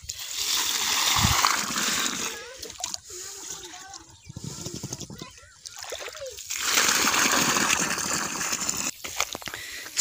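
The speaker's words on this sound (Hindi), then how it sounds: "इसे भी हम लगाते हैं पानी।" Water splashes and gushes onto a potted lemon plant, loud and continuous in two long bursts with a quieter stretch between where a person speaks.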